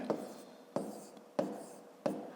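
Writing multiplication numbers by hand during a fifth-grade maths exercise: four separate scratchy pen or chalk strokes, each a sharp onset fading away, spaced roughly evenly, close and fairly quiet with no talk.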